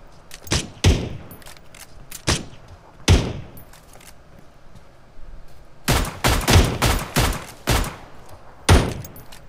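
Heavy R45 revolver shots fire in the mobile battle-royale game PUBG Mobile: four spaced single booms first, then a rapid cluster of five or six shots and a final blast, each sharp and loud with a short decaying tail.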